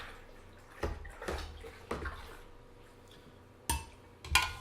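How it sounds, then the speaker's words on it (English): Apple cider must being stirred in a fermenter to oxygenate it, giving a series of sloshing, swishing water strokes with occasional clinks, close and moderately loud, no talking. "So now that's stirred up really well."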